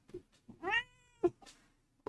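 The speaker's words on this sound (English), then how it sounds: "I hear an orange thing meowing at me." An orange cat meows once with a rising, drawn-out call, followed by a short chirp-like sound; the cat is close and alone, with no talking.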